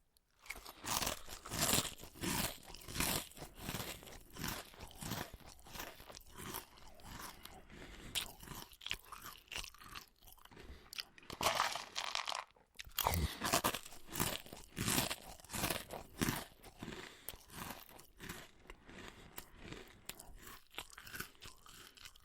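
Dry, stale Cap'n Crunch cereal eaten straight without milk, producing loud, close crunching bites and chewing in a steady, repeated rhythm with a short pause partway through.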